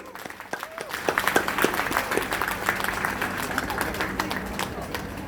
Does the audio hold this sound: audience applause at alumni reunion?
yes